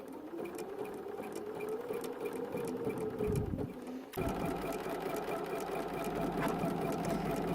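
Sewing machine stitching fabric with a hemmer foot, a steady close mechanical whir and rapid needle clatter running continuously, with a brief pause near the middle before resuming.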